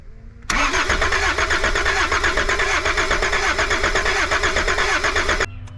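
An abandoned Volvo 740 with a D24t turbo diesel cranks over on the starter in one loud, continuous, close burst of rhythmic churning, lasting about five seconds without catching, then stops.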